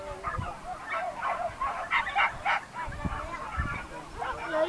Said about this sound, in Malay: Ini anjing mungkin lah